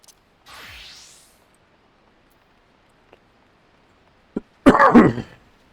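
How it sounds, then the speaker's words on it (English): A single harsh, close cough from a person recovering from illness with a stuffy nose, loud and brief near the end after a faint whoosh and tiny clicks, with no talking. "I've still got a bit of a cough and a stuffy nose, so forgive me if I cough into the mic"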